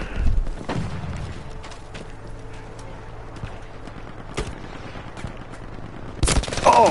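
Sniper gunfire in a tactical war video game, with a few sharp cracks scattered across the clip and a louder shot and burst near the end, over a steady low battlefield rumble.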